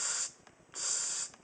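Cold Steel Inferno pepper spray fires in two sharp, close hissing bursts, each roughly a quarter to half a second long and separated by a short gap, with no voices.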